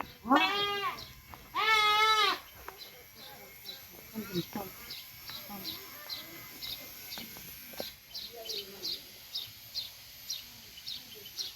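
Goats bleat close by, with two long wavering calls at the start, followed by quieter scattered sounds and faint bird chirps repeating in the background.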